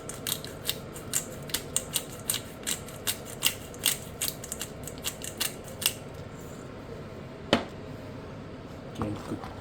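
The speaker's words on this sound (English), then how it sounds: "Then I'm going to go in with some black pepper, just cracked black pepper." A hand pepper grinder cracks black pepper over a rustic minestrone soup, giving a quick run of crisp, rhythmic clicks and crunches close up, then a few scattered clicks after a pause.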